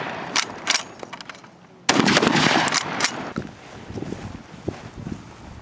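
Rifles fire during infantry live-fire training outdoors, with several loud, sharp gunshot cracks, some close together, and a louder cluster in the middle, over wind noise and distant pops.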